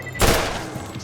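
Gunfire from a level 40 gun in Borderlands, a single sharp burst with a brief rattling tail, loud and close, with no voices.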